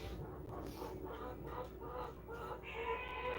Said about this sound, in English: That sounds like my chickens.